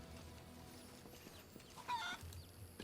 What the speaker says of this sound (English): Scare the chickens.